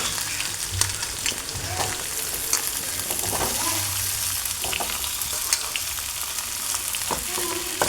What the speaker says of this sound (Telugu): ఇప్పుడు ఆలు ముక్కలు వేసుకుంటున్నాను.